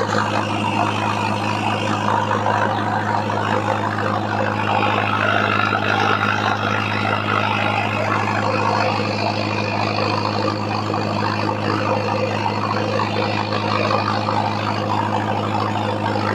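A Mahindra 605DI-MS Arjun Novo 4x4 tractor runs an 8-foot Shaktiman rotavator, its engine holding a loud, steady low drone with a constant hum and no break throughout.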